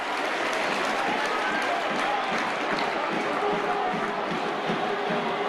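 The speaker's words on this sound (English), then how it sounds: "just listen to the roar of the crowd" A packed stadium roars continuously at a 2005 Warrington rugby league match, a broad, steady wall of crowd noise with a commentator's voice running beneath it.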